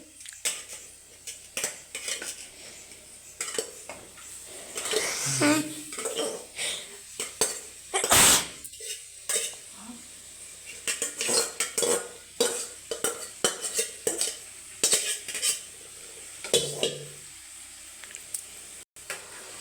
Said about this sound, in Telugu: దీంట్లో ఇప్పుడు మక్రోనీ ఉడవబెట్టింది వేస్తున్నానండి